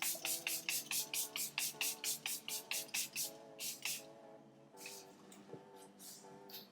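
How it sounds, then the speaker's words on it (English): Milani Make It Last Matte setting spray misted onto a face in a rapid run of about a dozen short, evenly spaced hissing pumps, then a few more irregular bursts after a brief pause. "gonna use the Milani Make It Last Matte spray"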